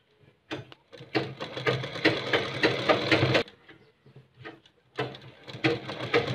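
A sewing machine stitches a collar onto a kurta in bursts, running about two seconds, pausing, then starting again, close and fairly loud with no talk.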